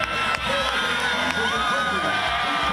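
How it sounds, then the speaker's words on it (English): A high school football crowd cheers and shouts steadily from the stands after a quarterback sneak ties the game, a dense, continuous roar of voices with whoops rising above it, heard fairly close and loud. "And that fires up the crowd"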